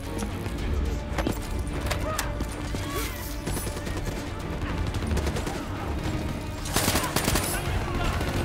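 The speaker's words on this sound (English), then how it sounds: "This gun has like no recoil." Dense gunfire from a weapon in the video game Call of Duty Black Ops 3, with sustained rapid bursts and heavy impacts that run continuously and loudly throughout, under a busy mix of game effects.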